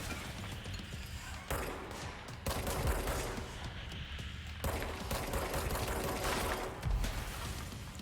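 Rapid bursts of automatic gunfire in the video game Control, dense and loud, coming in repeated volleys with brief pauses and thuds between them.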